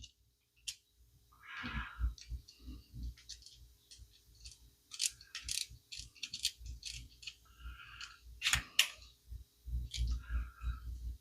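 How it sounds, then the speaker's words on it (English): Small metal clicks and scraping ticks from screwing a Williams peep sight back onto a Hawken muzzleloading rifle, a close, irregular series of short handling sounds without talk. "for now, I'm gonna put this back on. Screw it back in"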